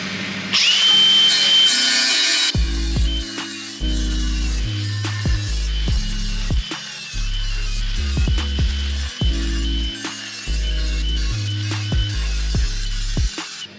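A power grinder whines loudly against metal brake parts, running in repeated bursts with short pauses between, close up and harsh.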